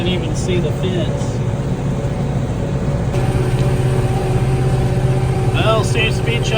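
Tractor-pulled hay baler chugging along in a tall hay field, a steady low engine drone with rhythmic mechanical clatter running continuously up close, with some higher squeaks over it.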